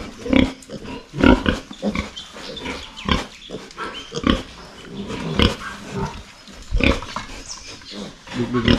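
Pigs on a farm grunting and squealing close by in repeated overlapping bursts, loud and busy, with a voice briefly audible among them.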